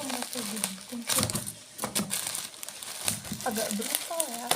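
Bubble wrap packaging being torn open by hand during an unboxing, with crinkling and ripping bursts of plastic that come and go under a person talking, close and moderately loud.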